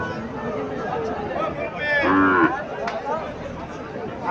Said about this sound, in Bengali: এখানে আরো একটা সাইওয়াল জাতের বাছুর দেখা যাইতেছে